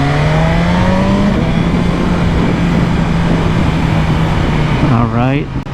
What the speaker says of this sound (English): Downshifting on quick shifter feels amazing.